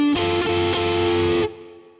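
Electric blues guitar turnaround, with two strings struck together in a quick repeated rhythm, then a final note that rings out and fades; no talking.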